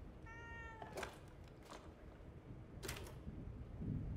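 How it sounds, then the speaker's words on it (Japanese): A cat in a survival horror video game gives a single clear meow near the start, followed by soft clicking and shuffling sounds at a low level, with no talking. "猫ちゃん邪魔だよ。"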